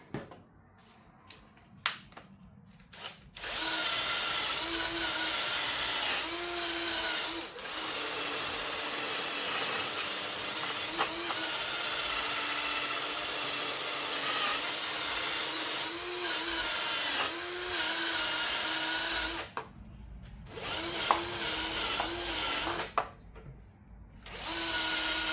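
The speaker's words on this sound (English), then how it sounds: "I'll give that a bit of a wire brushing" Steady, close scratchy whirr of a wire brush scrubbing a cotter pin on a Leyland 154 tractor, running continuously for long stretches with brief pauses and clicks.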